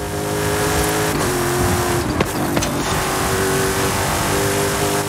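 A video-game race car engine drives steadily at a loud, sustained pitch, with brief shifts in tone as it revs through corners, and no voices are heard.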